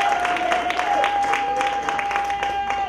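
A crowd applauds and claps steadily indoors at a church service, with a sustained tone and voices mixed in beneath the clapping.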